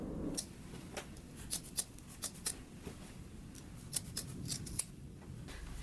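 Scissors snip through the fabric seam allowance of sewn pants, a quick series of close, crisp cuts in uneven rhythm with brief pauses between bursts.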